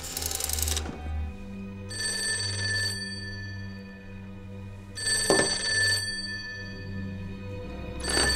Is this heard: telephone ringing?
yes